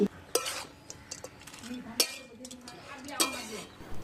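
Crushed fried lentil dumplings being stirred into a cauliflower stalk curry in a pot, with a few sharp spoon clinks against the metal and soft scraping between them, close and moderately quiet.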